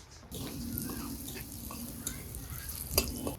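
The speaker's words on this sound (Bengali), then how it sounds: "ফোড়ন পুরোপুরি করে নিলাম" Garlic, black cumin and dried chillies tempering in hot oil while being stirred, a soft steady sizzle with light scraping strokes and a sharper clack near the end.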